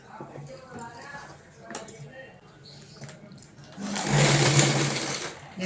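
A sewing machine stitches ladies' pants fabric, whirring in a fast, steady run near the end after quieter handling sounds, while a person talks throughout.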